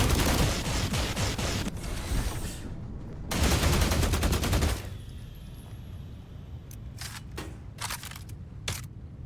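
Laser weapons fired by a laser bomb enemy in the video game The Last Caretaker, long dense bursts of rapid zapping shots followed by a few short separate blasts, loud and close.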